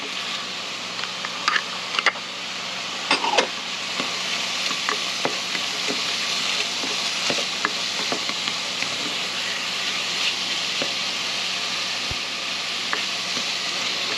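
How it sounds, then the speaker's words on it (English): Onions and bell peppers sizzle steadily in a hot pan, a constant crackling hiss with scattered pops and a few clinks of a utensil stirring. "we're just going to let these sizzle in here and get all slippery"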